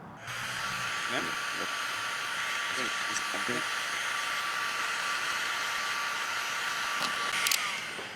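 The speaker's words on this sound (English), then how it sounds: "So you have to take a heat gun, heat it up, get the adhesive a little loosey-goosey" A heat gun set around 350 degrees blows steadily, warming the black roof seal adhesive on a Ford Transit van: a continuous close, even hiss with a few faint knocks.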